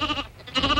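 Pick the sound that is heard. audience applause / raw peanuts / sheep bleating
sheep bleating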